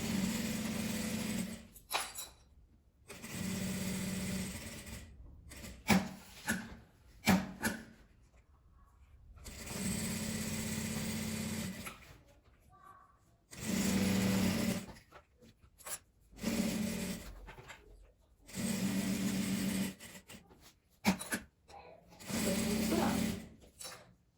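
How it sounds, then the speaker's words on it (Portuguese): A sewing machine stitches fabric for a hanger-style bra holder. The motor runs in short and long bursts separated by quiet pauses, close by and at moderate loudness. "Vem costurando devagar."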